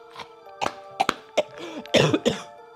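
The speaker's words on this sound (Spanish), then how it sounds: "Traigo tos de perro" A person in a Spanish-language comedy sketch gives a harsh, dog-like cough: a string of short, rough bursts, fairly close and moderately loud, with voiced throaty sounds between the hacks.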